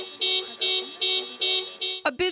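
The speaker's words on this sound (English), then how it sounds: "setting off a car alarm whenever we tried to record" A car alarm, set off by a neighbouring business owner, blares in a repeating cycle of loud electronic whoops, several pulses in a row before a brief change of tone near the end.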